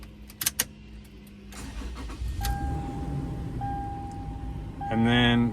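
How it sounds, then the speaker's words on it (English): A Toyota 4Runner engine cranks and starts in the middle of the clip, with a steady electronic tone sounding afterward and a brief chime near the end, preceded by a few clicks and a clunk. "then start the car."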